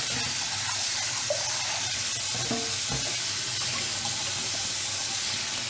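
Cold tap water runs steadily into a sink as broccoli is washed, a continuous loud hissing splash with faint handling noises and no talk.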